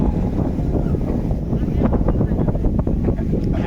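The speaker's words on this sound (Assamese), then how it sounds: "সুন্দৰ বতাহ বলিছে" Wind buffets the microphone in a steady low rumble on a village road in the afternoon, gusting a little louder now and then, with no clear voices.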